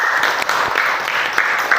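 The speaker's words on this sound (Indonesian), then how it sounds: "Oke, tepuk tangan dulu buat kita semua." Students in a class clap their hands in a brief, lively burst, close and fairly loud, with a few sharper claps standing out near the end.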